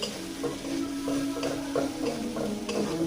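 Spice paste of cumin, turmeric and green chili fries in a pan for hilsa and eggplant curry, a steady sizzle with a run of soft rhythmic stirring taps, close and without speech.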